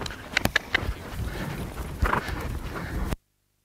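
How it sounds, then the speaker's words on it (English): Hooves of a stallion trotting in a dressage arena, several sharp clip-clop strikes early then a steadier muffled rhythm, moderately close over a soft ambient background. "the horse starts to give me more trot"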